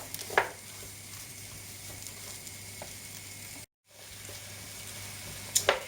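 Leeks and other vegetables for a leek, potato and sweet potato soup sizzle steadily as they cook down in a pot, a soft continuous frying hiss with a brief silent gap and a couple of light clinks.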